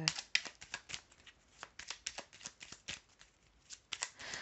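Tarot cards being shuffled by hand, a rapid series of crisp, riffling snaps and flutters in irregular bursts, close and fairly quiet.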